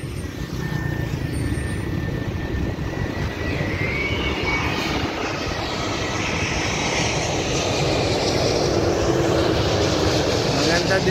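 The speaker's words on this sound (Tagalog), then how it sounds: "Nakita mo yung naglalanding ng aeroplano papalipad." An airplane roars as it lands and takes off near a wide open road area, a loud continuous engine rumble and whine building slightly over the span, with traffic-like background noise.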